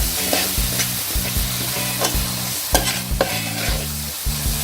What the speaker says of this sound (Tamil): எல்லாத்தையுமே நல்லா எண்ணெயில் வதக்கிடுங்க.